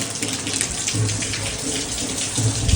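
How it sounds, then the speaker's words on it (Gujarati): Continuous heavy rain pours down during a rainy day, a dense unbroken wash of water sound that stays loud and even from start to finish, with faint low voices underneath. "વરસાદ બધું કામકાજ વીખી નાખે બંધ નથી થતો આજ તો"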